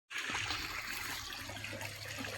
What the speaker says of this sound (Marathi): मोटर चालू आहे आपली, हस्तीचं बारका पाईप आहे. एवढं चालतं पाणी